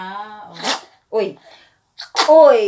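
One sharp sneeze bursts out close by amid casual conversation, with surprised exclamations from people chatting around it.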